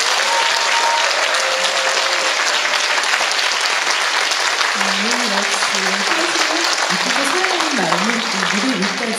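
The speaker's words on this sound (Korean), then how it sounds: "큰 박수 주시면 어떨까요?" Loud, sustained applause from a concert audience in the main hall of the Iksan Arts Center, greeting the inaugural concert of a newly founded opera company; dense clapping fills the whole stretch while a voice speaks faintly underneath.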